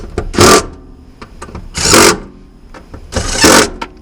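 Small impact gun set to very low torque tightening bolts, three short loud rattling bursts spaced about a second and a half apart, close up with faint clicks between them.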